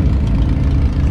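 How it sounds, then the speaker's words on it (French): Historic Monte-Carlo rally cars sit with engines idling and warming up, a steady low rumble that fills the short stretch without a break, with voices murmuring faintly in the background. "Là, on entend aussi le bruit des moteurs qui se préparent."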